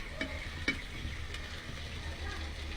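Chilies and spices sauté in oil in a pan while cooking dried fish with potatoes, giving a soft steady sizzle with a few faint stirring clinks, quiet and close.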